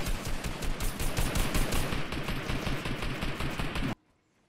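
Rapid automatic gunfire crackles in a Fortnite match, a dense, loud burst of repeated shots that runs for nearly four seconds and then cuts off abruptly into near silence.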